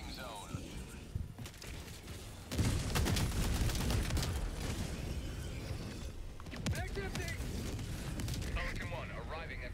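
Heavy orbital strike blasts in a robot-fighting shooter game, a loud sustained barrage of explosions and gunfire that surges after a quieter start, with voices talking over the din.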